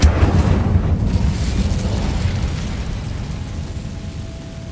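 An Incendio fire spell cast in the game Hogwarts Legacy bursts into a loud, deep whooshing blast right at the start, then rumbles and fades gradually over several seconds.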